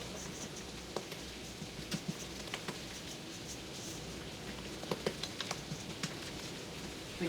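Heavy rain falls outside a home kitchen during a cookie-making session, heard indoors as a faint, steady hiss with scattered soft drop ticks throughout, no voices.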